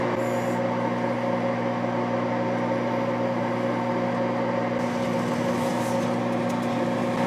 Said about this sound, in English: take it over to the microwave, throw it in, put it on for a minute